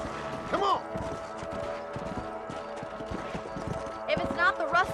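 Horse hooves clip-clop at a gallop in Red Dead Redemption, a close rhythmic drumming with a brief whinny, while game voices talk over it.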